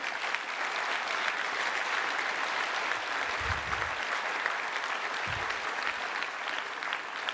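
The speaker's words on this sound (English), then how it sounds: "How about a round of applause for the engineers on Fermi?" An audience claps steadily at Nvidia's GTC 2009 keynote, applauding the engineers behind the Fermi GT300 GPU architecture; dense, sustained applause fills the hall for several seconds with no talking over it.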